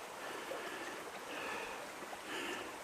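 Gentle rushing water flows steadily, a soft continuous wash heard from a little distance with no voices; a river running high after heavy rain.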